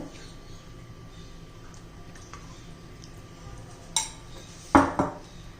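A spoon mixes a semolina batter with added oil and soda in a bowl: a soft low stir, then a few sharp metallic clinks against the bowl near the end.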